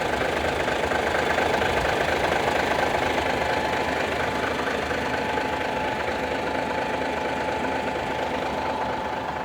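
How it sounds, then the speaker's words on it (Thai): A large truck engine idles steadily with a low, even rumble and faint knocking, constant throughout and with no talking. "เสียงเครื่องโอเคเลยครับ"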